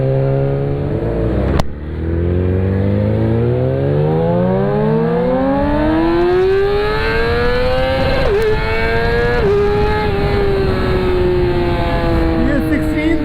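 A Yamaha R6 600cc sport motorcycle engine revs hard and close, its pitch climbing steadily in one long, loud sweep toward high rpm, with a couple of brief dips near the top.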